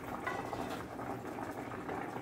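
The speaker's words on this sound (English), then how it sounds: "my brown rice is boiling out of control" Brown rice boils hard in a pot on the stove, with a dense, steady bubbling and gurgling heard close up and without voices.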